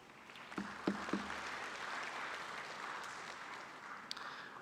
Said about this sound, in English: what really remains is for us to give them a big round of applause.